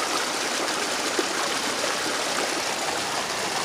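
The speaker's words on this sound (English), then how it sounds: "We've made our own creek." Water flows steadily in a small creek, a constant close babbling rush with no voices.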